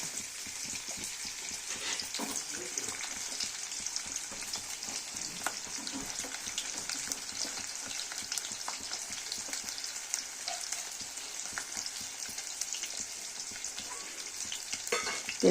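Plenty of onions frying in oil for a chicken liver dish make a steady, hissy crackle with light intermittent stirring clicks, moderately quiet and continuous with no voices.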